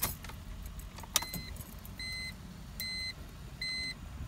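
A 2000 BMW 323ci failing to start, giving a few repeated short electronic beeps or chimes in an even pattern over faint background noise, with no engine cranking or catching.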